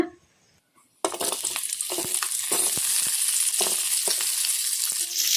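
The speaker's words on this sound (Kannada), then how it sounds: "ಎಣ್ಣೆ ಕೂಡ ಬಿಸಿಯಾಗಿದೆ ಈಗಿದಕ್ಕೆ ನಾವು ಕಟ್ ಮಾಡಿ ಇಟ್ಕೊಂಡಿದ್ವಲ್ಲ ಉಳ್ಳಾಗಡ್ಡಿ ಈಗ ಇವನ್ನ ಹಾಕೋಣ" Chopped onions drop into hot oil in a kadai: after a second of near-silence, a loud, dense sizzle erupts and holds steady, with scattered clicks of stirring.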